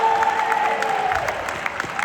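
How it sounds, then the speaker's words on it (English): Dense applause from an education conference audience, steady clapping from many hands at moderate distance, fairly loud and continuous with scattered sharper claps. "We all literally were clapping"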